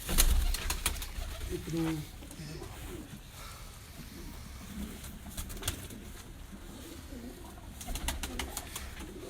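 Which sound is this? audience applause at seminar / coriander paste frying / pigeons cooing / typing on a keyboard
pigeons cooing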